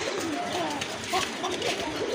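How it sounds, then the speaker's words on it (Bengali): A pair of large Lakkha pigeons coos softly and repeatedly at close range, a low rolling warble under a steady hiss of background noise. "এক জোড়া লক্ষা কবুতর, অনেক বড় সাইজের কবুতর"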